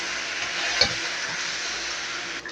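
Seasoned food with oyster sauce and pepper fries in a pan and is stirred, a steady close sizzle with a brief scrape partway through.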